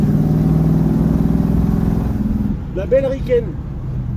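Muscle cars, including an AC Cobra and a Firebird, rumble on the Fontenay circuit with a steady low engine drone that fades midway, under someone talking close by.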